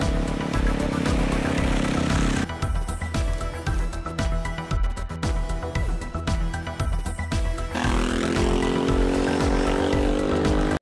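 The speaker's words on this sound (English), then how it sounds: "Test riding the Aprilia Tuareg 660." An Aprilia Tuareg 660 motorcycle on a test ride, its engine droning steadily and loudly throughout, with rising pitch sweeps as it revs and accelerates and a brief dip around gear changes.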